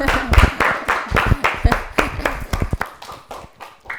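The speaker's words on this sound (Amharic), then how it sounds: "40 አጨብጭቡለት፣ በደምብ አጨብጭቡለት።" Studio audience applauds a contestant on an Ethiopian children's television quiz show: dense, rhythmic hand clapping in close bursts that thins and fades over a few seconds, with some voices mixed in.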